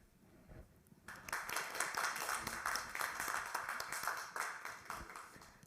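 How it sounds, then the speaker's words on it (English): A conference audience at the Brand Global Summit 2020 in Vienna breaks into sustained applause, with dense clapping heard at moderate distance. "A round of applause, please."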